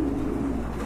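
A male Sirazi pigeon coos close by in a short burst, a low throaty rolling call held steadily without pause.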